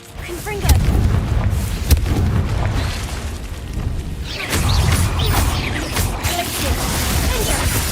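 A fire-spell blast in the Hogwarts Legacy video game, set in a cave, bursts with a loud boom followed by rumbling, crackling debris and a second heavy burst, sustained and dense throughout.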